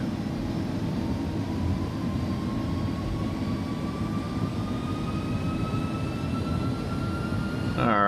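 Airbus A300 engines spool at takeoff power in an X-Plane 11 flight simulation, a loud steady jet roar with rising whine tones that build over several seconds.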